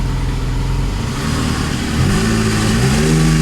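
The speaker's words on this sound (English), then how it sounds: "the revs hang kind of weird too" A BMW E46 with a misfire and check engine light runs nearby, a rough, uneven engine note that climbs as it is revved and then hangs at higher revs, loud and close with no talking.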